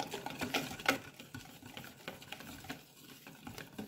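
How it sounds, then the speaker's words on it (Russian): Dough of flour and baking powder being kneaded in a bowl for a skillet breakfast, with soft irregular squelching, patting and stirring sounds, close and fairly quiet, with no talking. "Замешиваем тесто."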